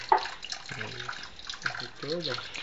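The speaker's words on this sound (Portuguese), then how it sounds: "Ali a bica tá aberta." Water runs from an open tap into a laundry tub, a soft steady trickle under a person talking nearby.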